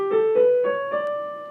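An ascending melodic minor scale climbs in a few quick, clear stepwise notes, each ringing into the next at moderate loudness, with nothing else heard.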